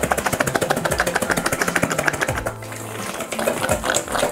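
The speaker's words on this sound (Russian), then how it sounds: "Трясем, перемешиваем в разные стороны." Cucumbers with salt shaken in a closed, lid-pressed container, giving a fast, steady rattling rhythm for a couple of seconds, a brief pause, then more uneven shaking, loud and close.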